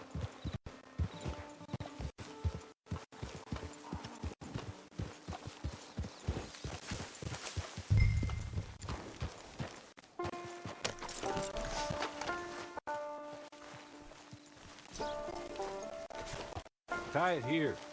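A horse's hooves clip-clop at a walking pace in the video game Red Dead Redemption 2, a steady rhythmic patter running under game music and ambient noise with a voice speaking briefly.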